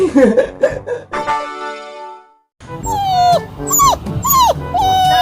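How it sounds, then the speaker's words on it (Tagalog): A dog whimpers and yips in high, whining cries, close and fairly loud, with a voice singing briefly before a pause. "Hala! May aso!"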